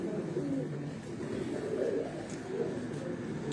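Pigeons coo softly in a loft, low rounded calls repeating amid steady background noise, fairly close but faint.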